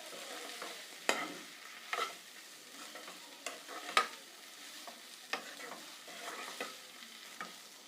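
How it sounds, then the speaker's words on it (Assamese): A utensil stirs bitter gourd and Nutella curry frying in a pan, soft scraping strokes repeating about once a second over a faint steady sizzle, quiet and close, with no talk. "এইখিনি এতিয়া ভালকৈ মিক্স কৰি দিছোঁ।"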